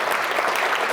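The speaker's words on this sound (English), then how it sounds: "let's give them a round of applause" Audience at a community luncheon applauding, a dense, steady wash of clapping from many hands filling the room.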